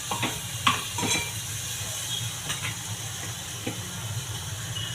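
Softened tomato sautés in a pan for a mixed vegetable masala with paneer, carrot and beans, giving a low continuous sizzle and hiss with a few soft stirring knocks and no talk.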